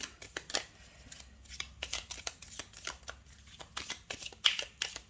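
Tarot cards are shuffled and drawn close by in quick, papery riffles and slaps, arriving in irregular bursts with no speech.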